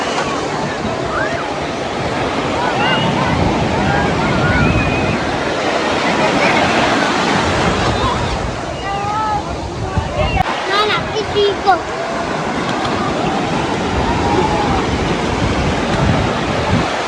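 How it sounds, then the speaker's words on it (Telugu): Waves wash steadily onto Colva's white sand beach in South Goa, a constant loud roar of surf mixed with wind buffeting the microphone, while people talk and call out over it. "ఇది వైట్ శాండ్ బీచ్ అంట, చాలా బాగుంది."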